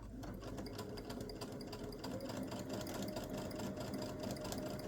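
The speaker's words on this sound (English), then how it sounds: "I'm just sewing right along the very edge." Sewing machine stitching along the edge of a fabric pot holder, a quiet, steady rapid whirring chatter that runs continuously without a break.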